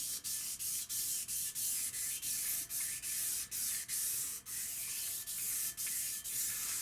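Sandpaper rubs back and forth across a bathroom sink finish in steady, even strokes, a soft hissing scrape repeating about twice per second, close and fairly quiet.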